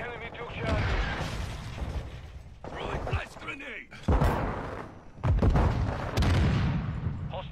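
Call of Duty match with a grenade blast and bursts of gunfire, loud thumps and cracks recurring through the clip amid heavy game noise, with someone talking over the action.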